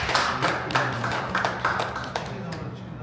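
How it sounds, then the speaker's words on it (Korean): A church congregation claps to welcome a newcomer, a brisk run of crisp, fairly rhythmic hand claps from a small group indoors, with voices talking faintly underneath. "우리 박수로 맞이해드리겠습니다"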